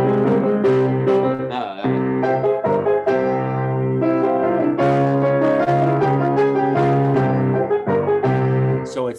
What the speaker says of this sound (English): I don't know if you've heard the famous Malaguena that sounds like this.